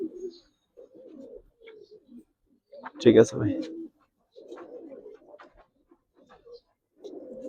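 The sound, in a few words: pigeons cooing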